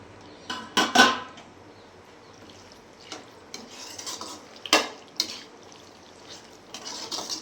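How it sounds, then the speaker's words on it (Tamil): Pasta is stirred into sauce in a pressure cooker, with a few short scraping and clattering bursts of the spoon against the metal pot separated by quiet gaps. "எடுத்து பிரித்து வச்ச அந்த பாஸ்தாவை இந்த கண்டென்ட்டோட மிங்கிள் பண்ணணும்"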